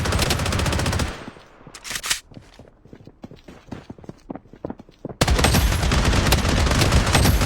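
Rapid bursts of gunfire from the Blood Strike battle royale video game, a dense rattle of shots that thins into sparser cracks mid-clip before loud continuous firing resumes.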